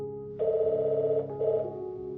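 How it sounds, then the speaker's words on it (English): A telephone rings indoors with a loud, steady electronic tone in two bursts separated by a brief gap, and no voices are heard. "The phone rings"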